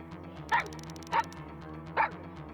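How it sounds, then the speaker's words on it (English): An angry dog in the old-school horror game Soviet Spooky Tales lets out three sharp, evenly spaced barks over a low, steady musical hum, close and fairly loud with no talking. "The dog is angry."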